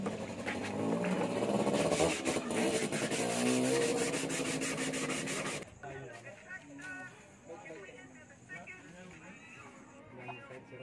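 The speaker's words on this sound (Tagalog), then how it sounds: "lilihain natin siya guys ng buo gamit ang 180 grit ulit" Steady rhythmic scraping of 180-grit sandpaper rubbing paint off plastic, loud and close for several seconds, then stopping, leaving quieter background noise and faint voices.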